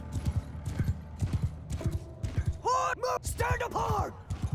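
Horse archers gallop in the Bannerlord video game, with rhythmic hoofbeat clip-clops throughout and several horse whinnies rising over them. Voices talk underneath.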